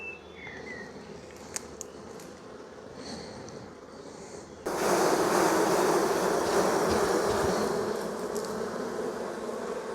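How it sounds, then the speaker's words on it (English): Bees buzz on a jam-packed hive frame, a low continuous drone that jumps louder and denser midway as the frame is lifted close, with a few faint clicks early on. "look at that frame of bees"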